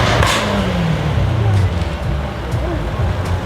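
A sedan car passes on a busy road amid steady traffic rumble, its engine tone swelling and falling in a low pitch sweep over a few seconds, with a lively crowd and voices in the background.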